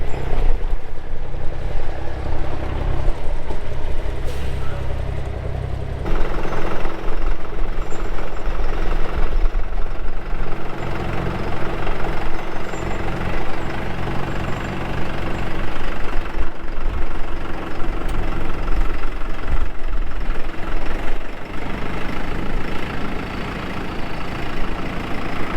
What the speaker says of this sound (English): It's a new tractor.